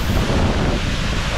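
Water rushing and spraying at Changey Falls, a waterfall near Kolakham village in Kalimpong, heard up close as a loud, steady broadband roar with no break.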